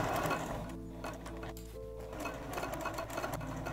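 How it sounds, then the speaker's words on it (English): A sewing machine runs a 3 mm stitch across the bottom of a fat-quarter tote bag pocket, making a fast, steady mechanical whirring and clatter. It is close and continuous, with a brief slowing midway, and no voice is heard. "I'm gonna stitch at a 3 millimeter stitch length, about 1/8 of an inch away from the edge of the pocket"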